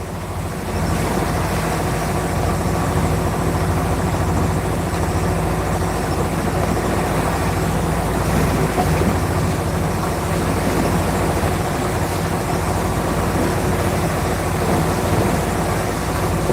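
A sailboat motoring at sea with one sail up and little wind, its engine holding a steady low drone with constant hull and water noise, alone and without talk.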